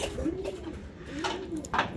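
A racing pigeon, the second bird arriving home from a 612 km race, coos softly a few times in quick succession, fairly close, with faint rustling around it.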